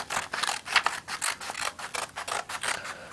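Scissors snip through A4 paper sheets for a paper windmill craft, a quick run of close, crisp cutting strokes in an irregular rhythm with a dry rasping edge, with no talking.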